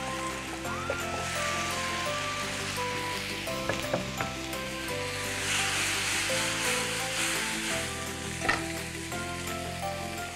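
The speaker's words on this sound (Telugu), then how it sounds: "పొటాటోస్ వేస్తున్నాను ఇక్కడ ముక్కలు" Potato pieces sizzling and frying in a pan of hot oil with Chinese-style flavoring, a steady crackling hiss with occasional stirring clinks, no talking.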